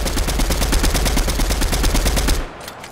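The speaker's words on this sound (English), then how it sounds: "he's shooting people in front of us" Rapid automatic gunfire in Fortnite, a steady stream of close, loud shots for over two seconds before cutting off into quieter game ambience.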